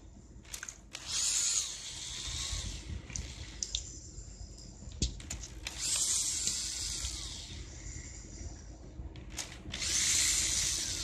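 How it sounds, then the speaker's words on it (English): A power driver backs out four T25 screws from the heat shield and spark arrestor of a Craftsman Bushwacker, giving several sustained whirring bursts with short pauses between them and no talk. "You have 4 T25 screws that you got to take out."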